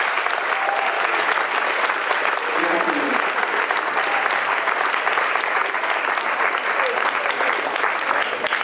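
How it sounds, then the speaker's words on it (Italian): An audience at an Italian evening of readings and awards applauds steadily, dense sustained clapping filling the room from start to finish with no talk over it. "Vi chiedo un applauso per voi."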